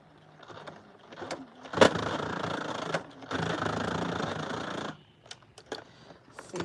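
A sewing machine labours to stitch back and forth through thick leash material in a shop, running in two loud sustained bursts with brief mechanical clicks between them.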